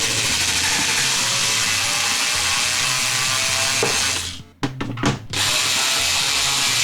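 A power screwdriver whirs continuously, loud and close, backing the bottom screws out of a Super Nintendo console, with a short pause and a few clicks before the whirring resumes.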